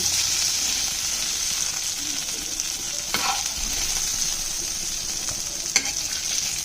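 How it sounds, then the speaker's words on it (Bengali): Soybean chunks frying in a pan with salt make a continuous, even sizzle up close, with a couple of brief scraping stirs breaking through. "এই নুনটাতেই এটা ভাজাটা অনেকটাই তাড়াতাড়ি হয়ে যাবে"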